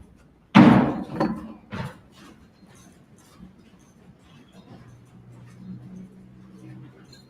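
An indoor door bangs shut with a loud thud near the start, followed by a quieter knock and soft rattling, then low room noise and faint background voices.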